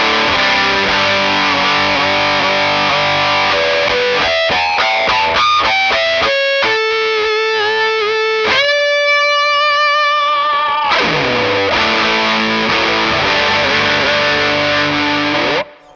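Heavily distorted electric guitar through a Greer Amps Gorilla Warfare MKII Rat-style distortion pedal plays sustained chords and a run of single notes, loud and gritty with a thick saturated tone.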